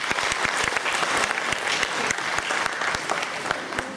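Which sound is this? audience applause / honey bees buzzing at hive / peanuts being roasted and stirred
audience applause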